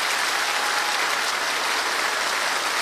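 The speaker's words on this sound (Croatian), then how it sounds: "Veliki aplauz za lepu Brenu i Slađanu Mandić" Dense, steady applause from a studio audience for Lepa Brena and Slađana Mandić on a Prva TV entertainment show, filling the whole moment with no voices over it.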